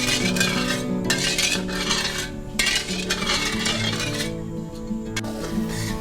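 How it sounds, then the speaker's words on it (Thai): A spoon stirs water and sugar in a pan over low heat for Thai pork belly caramelized with fish sauce. It makes a few scraping, clinking strokes beneath steady background music. "เสร็จแล้วเปิดไฟได้เลยค่ะ คนจนน้ำตาลละลายเลยนะคะ"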